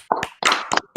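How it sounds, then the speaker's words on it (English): A handful of separate hand claps close by, spaced unevenly in a slow rhythm with short silences between them. "That's a slow clap."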